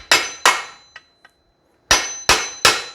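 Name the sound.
punch tool tapping aluminum supercharger assembly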